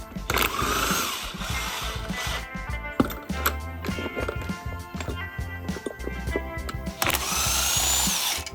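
An impact wrench works loose the lower ball joint bolt on a car being built. It gives loud, close, rattling hammering bursts for most of the stretch, broken by short pauses and trigger blips.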